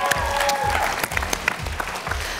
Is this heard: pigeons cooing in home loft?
no